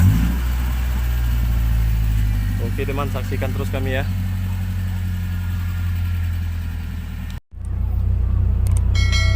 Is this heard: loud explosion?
no